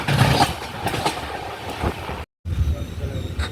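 Island Express passenger train running toward Kazhakkoottam station in Kerala, a steady rumble and rattle heard from inside the carriage with clattering wheel beats, broken by a brief moment of silence before the ride noise resumes.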